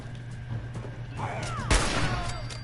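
Video game gunfire, with a dense wash of rapid shots and one sharp, loud crack standing out near the middle over steady background game noise and a low hum.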